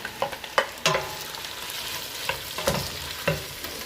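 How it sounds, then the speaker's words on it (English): Meat frying with golden onions in a pot for Hungarian goulash, a soft continuous sizzle broken by several sharp scraping stirs of a utensil, close and fairly quiet. "I'm going to add the meat to this. And now you have to cook the meat"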